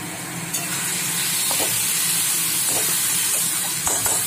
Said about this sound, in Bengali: আর একটু ভাজা ভাজা হবে এটা,